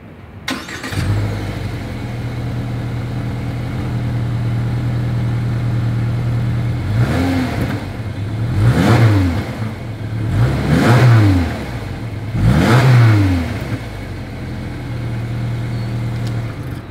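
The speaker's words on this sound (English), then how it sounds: "As always, here is that exhaust clip." A 2021 Subaru Impreza sedan engine idles steadily, then three sharp exhaust revs climb and fall in quick succession, loud and close, with no talking.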